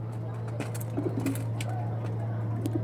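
High-quality pigeons kept for sale coo softly and intermittently over a steady low hum, with scattered sharp taps and rustles nearby.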